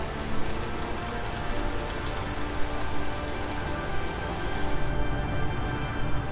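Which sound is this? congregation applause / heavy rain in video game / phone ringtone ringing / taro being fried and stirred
heavy rain in video game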